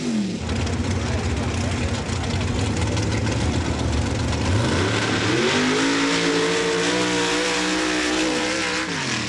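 A mud truck and a Jeep revving hard at the starting line of an MRA mud drag race in Laporte, Indiana, loud engine roar climbing in pitch as they launch.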